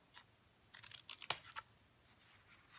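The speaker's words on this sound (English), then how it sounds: "Once again, we're going to cut on the folded lines" Scissors snip through scored cardstock along folded lines while making a drawer box, a few quick close crisp cuts clustered together, quiet and alone with no talking.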